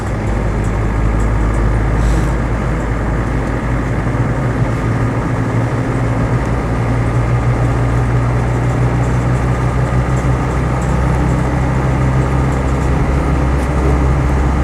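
Cabin drone of a Land Rover 90 hardtop with the 2.5 TD diesel, driving on a straight track, a loud steady low engine and road rumble with constant hum throughout, no talk.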